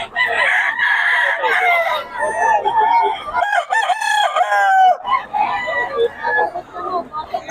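Gamefowl roosters crow loudly and repeatedly, drawn-out cock-a-doodle calls overlapping from several birds close by, with clucking and a voice in between.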